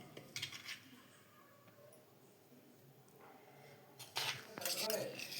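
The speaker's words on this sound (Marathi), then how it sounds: "आता हे सगळं आहे ना वाटीत काढून घेते" Doka chutney being scooped from a pan into a small bowl: faint spoon scrapes and clinks against metal, with a brief clatter early and a busier burst of scooping near the end.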